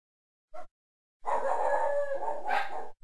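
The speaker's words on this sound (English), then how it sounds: "That's my dog." A pet dog gives a short yelp, then a sustained, loud, wavering howl with a bark-like break near the end, close to the microphone in a quiet room.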